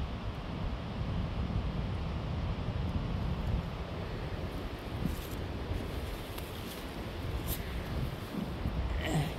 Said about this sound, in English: the wind's not gonna cooperate